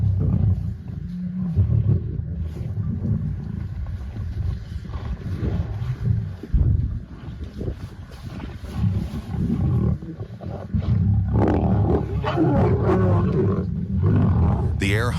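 Deep, rumbling African lion growls and low roars rise and fall over several seconds, mixed with a calm narrating voice.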